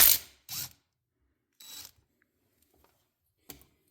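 Short ratcheting bursts from a tool working loose the bolts on a Kohler XT-675 engine off a Toro push mower, four separate close clicks with quiet gaps between them.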